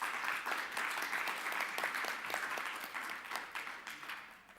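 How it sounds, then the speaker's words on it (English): An audience at a panel session applauds the speakers with sustained, dense clapping that tapers off toward the end. "Maybe we'll give a warm applause to all speakers."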